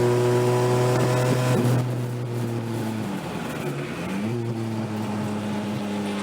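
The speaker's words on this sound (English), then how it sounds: "Car again." An endurance race car on the Watkins Glen circuit drones past with a strong steady engine tone, its pitch dropping as it moves away, then another engine note rises, with no talk.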